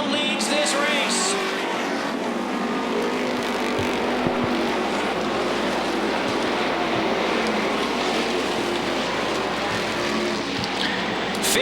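Modified race cars roar around Beech Ridge Motor Speedway in a continuous loud engine drone, with a commentator talking over the racing.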